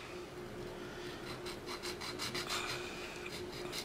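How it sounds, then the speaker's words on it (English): Steady, close rasping strokes of sandpaper on a Victorinox Ranger Grip 178 pocket knife, repeated rubbing with a rhythmic scratchy texture and no voices. "sand this"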